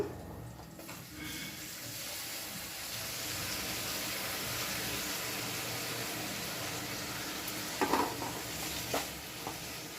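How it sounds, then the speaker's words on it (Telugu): Chopped tomatoes dropped into a pan of softened onions for a curry, giving a steady moderate sizzle with stirring and a couple of brief clatters near the end. "ఉల్లిపాయలు మెత్తబడిన తర్వాత మనం సన్నగా కట్ చేసి పెట్టుకున్న టమాటా ముక్కలను వేద్దాము"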